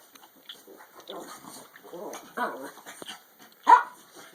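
Puppies yipping and barking on and off at close range while playing, with excited scuffling and one sharper, louder yelp near the end.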